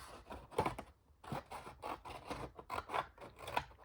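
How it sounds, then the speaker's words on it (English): Scissors cut through paper to make a pocket for a folio folder, with a series of quiet, close snips and rustles in an irregular rhythm. "Let's just cut it along here."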